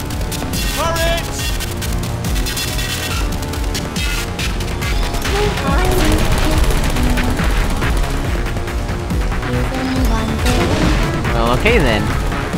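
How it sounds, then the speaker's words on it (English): Turret gunfire in Portal 2, dense rapid bursts of shots crashing over loud music and voices, continuous and close throughout. "Turret!"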